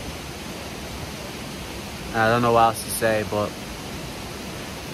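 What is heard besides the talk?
waterfall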